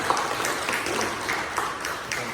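Church congregation at a Sunday worship service giving a short burst of applause, a dense even patter of many hands clapping at moderate volume.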